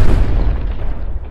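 Deep booming explosion from a Jurassic World dinosaur-island movie trailer, a loud low rumble that fills the whole moment and slowly fades.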